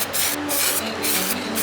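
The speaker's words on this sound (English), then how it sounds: "I started spraying these gold." Aerosol spray paint hisses out in four steady bursts, each a second or so long with brief pauses between, close and fairly loud.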